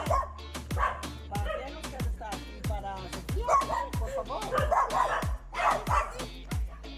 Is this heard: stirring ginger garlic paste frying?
no